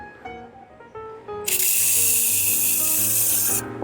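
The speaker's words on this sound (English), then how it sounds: "you spray it on" Armor All tire foam protectant hisses out of an aerosol can onto a tire in one steady two-second burst, loud and close, after a few soft handling sounds.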